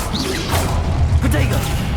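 The Incendio fire spell in Hogwarts Legacy goes off as a short, loud whooshing burst with a crackling rush that swells and fades within about a second.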